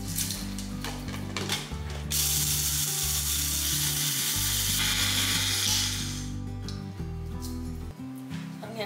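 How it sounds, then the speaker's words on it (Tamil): Mixer grinder pulverizing spices to powder for a tomato rasam, a loud close electric motor whine with rattling blades, running in pulses that change pitch as the jar is worked, with no talk. "இப்போ இதை வந்து நம்ம பொடி பண்ணிடலாம்"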